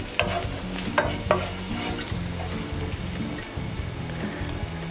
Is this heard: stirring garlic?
yes